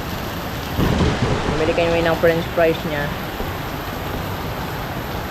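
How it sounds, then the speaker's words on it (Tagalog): Heavy rain pours in a steady, loud hiss throughout, while a person speaks briefly in the middle over the downpour. "biglang lumakas ang ulan"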